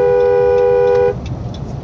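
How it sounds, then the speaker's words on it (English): On a Florida road, a car horn blares in one sustained, loud tone for about a second, then cuts off abruptly, leaving quieter road noise. "Honk, honk, honk, honk, honk."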